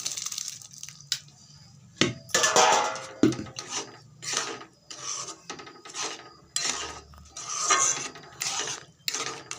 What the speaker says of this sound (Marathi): आणि ह्याच्यामध्ये मी आता अख्खा मसूर घालत आहे.